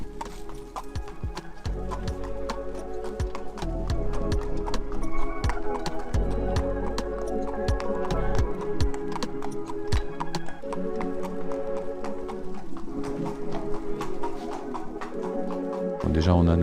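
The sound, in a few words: horse hooves clip-clopping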